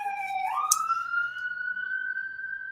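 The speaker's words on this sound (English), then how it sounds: "let's wait for this siren" Outside, an emergency siren wails with a sustained rising tone that holds steady and fairly loud, heard from indoors with no talking.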